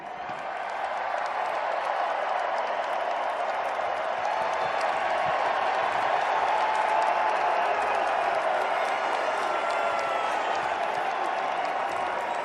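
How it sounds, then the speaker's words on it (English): Loud stadium crowd of Seattle fans cheering and applauding without pause after a Super Bowl win at the trophy ceremony, a dense roar of voices and claps that swells slightly midway and continues throughout. "I don't think the 12s will ever stop cheering."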